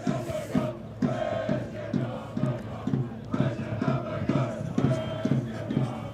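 Cardiff Met rugby fans at Cyncoed chant together in a rhythmic, repeated crowd chant, a steady pulsing of massed voices filling the ground, loud and sustained from start to finish.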